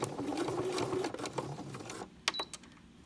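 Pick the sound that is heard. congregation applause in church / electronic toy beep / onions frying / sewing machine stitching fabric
sewing machine stitching fabric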